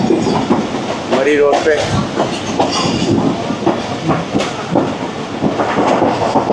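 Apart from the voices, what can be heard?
Sir Syed Express train approaching Rawalpindi station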